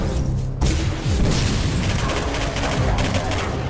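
Dense, loud gunfire and booming impacts from the first-person shooter Singularity run nonstop, layered into a thick wall of shots and blasts.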